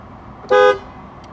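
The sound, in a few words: Ford Fusion car horn honking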